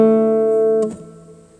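Acoustic guitar picks out the opening bar of a song, a few clear sustained notes ringing near and alone, then fading quickly into quiet.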